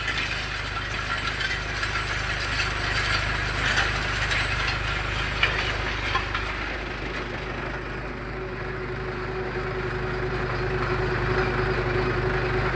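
Mahindra 575 DI XP Plus tractor pulling a groundnut sowing machine across a field, a loud, continuous engine drone with rattling mechanical clatter from the seeder throughout.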